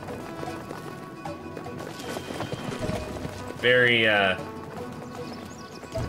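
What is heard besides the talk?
goats' hooves clip-clopping while riding, from a video game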